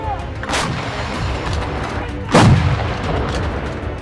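2A36 Giatsint artillery gun firing shells, with two heavy booms, the second closer and louder, over steady outdoor background noise.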